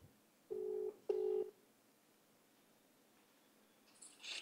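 A telephone ringback tone plays while a call is placed: two buzzy, steady low-pitched pulses about half a second apart, then a long near-silent wait with faint hiss and a brief higher noise at the end.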